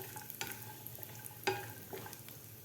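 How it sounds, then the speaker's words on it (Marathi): Dry fruits frying briefly in ghee in a pan, a quiet soft sizzle broken by a few sharp spoon-on-pan clinks and stirring scrapes close by. "आता ह्या तुपामध्ये आपल्याला हे ड्रायफ्रूट फ्राय करून घ्यायचे आहेत 1 मिनिटभर"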